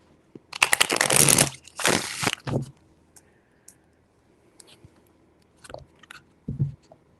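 Tarot cards are shuffled in three quick bursts of crisp riffling and card slaps close to the mic, followed by softer scattered clicks and taps.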